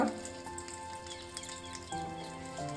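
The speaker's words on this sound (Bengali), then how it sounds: "এবার আমি কড়াইতে দেব 2 তেজপাতা," Two bay leaves and two dried red chillies sizzle in hot oil in a karahi after tangra fish has been fried, giving a soft, steady crackle with faint tonal sounds in the background.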